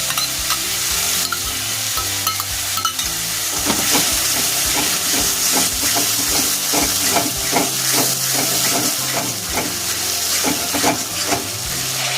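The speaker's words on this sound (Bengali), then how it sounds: "এখন আমি ফেটিয়ে রাখা টক দইটা দিয়ে দেব" Whisked sour yogurt hits a frying spice paste for a Bengali rohu fish poppy-seed curry, setting off a loud steady sizzle and hiss with a spoon scraping and stirring through it the whole time.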